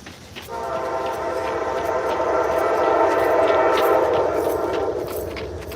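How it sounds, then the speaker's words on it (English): A train rumbles past with a sustained, droning roar and steady tonal horn-like hum, loud and continuous throughout. "Here comes another train."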